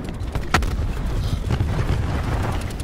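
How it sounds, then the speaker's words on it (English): A loud explosion booms through game audio in Call of Duty Black Ops 4, a sharp burst early on followed by rumbling, dense low-end battle noise that continues without talk. "That's loud explosion."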